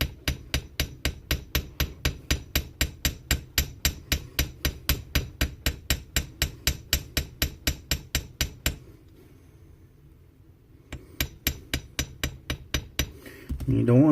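A hammer taps a wire coil on a small anvil set on books atop a desk, a fast, even series of sharp metallic knocks up close, pausing briefly before resuming.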